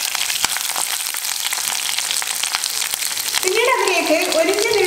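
Garlic cloves dropped into hot oil for lemon pickle, a busy crackling fry that swells into a louder bubbling sizzle toward the end, close up with no voices.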